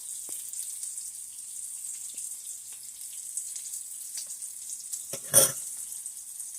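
A potato hash with smoked sausage fries in a pan, making a soft, steady hiss with faint crackles throughout and one louder scrape or stir near the end.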